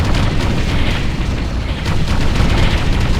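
Artillery bombardment in the real-time strategy video game Ground Control, a dense, continuous roar of loud booming explosions and rumbling blasts layered over one another without pause or talk.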